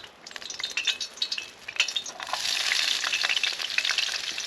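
Onions, peppers and jalapenos hit hot olive oil in a pan outdoors in snow, starting with scattered clinks and crackles, then breaking into a loud, steady sizzle with utensil stirring, close up and with no voices.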